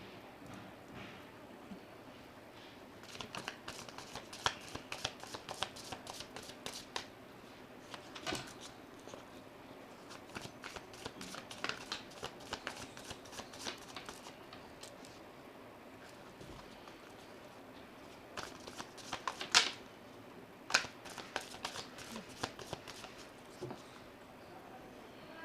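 A tarot deck being shuffled, with repeated quick papery riffles and soft card slaps in bursts, close and moderately loud against a quiet room.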